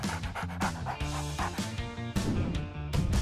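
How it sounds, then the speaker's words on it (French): A small dog yaps and pants in a quick series of short, close barks and whimpers, fairly loud and uninterrupted by speech. "Oh, un petit toutou trop chou."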